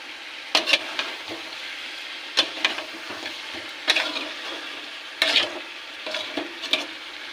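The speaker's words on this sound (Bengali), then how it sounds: "এবার এর মধ্যে ভেজে রাখা চিকেন আর আলুটাকে দিয়ে দেবো। দিয়ে একটু কষিয়ে নেব।" Fried chicken and potato pieces being sautéed in a pot for chicken biryani, with a low continuous sizzle broken by loud, close bursts of spatula scraping and clatter every second or so.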